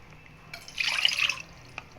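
Water is poured from a cup into a pan on the stove while making wheat flour payasam. It comes as one short, splashy pour of under a second, with a few faint drips on either side in a quiet kitchen.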